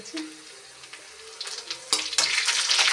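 Onions fry in a pan until golden brown for an Odia cauliflower curry. Soft stirring scrapes give way to a sizzle that swells suddenly and stays loud and hissing to the end.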